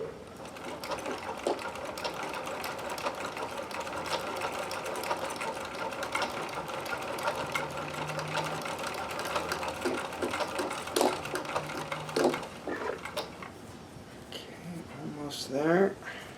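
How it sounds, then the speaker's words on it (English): A sewing machine stitching elastic onto underwear, running in a steady, continuous whir for a long stretch with brief pauses near the end while a person talks over it. "I'm sewing through the double thickness of elastic at the moment. It seems to be sewing flawlessly"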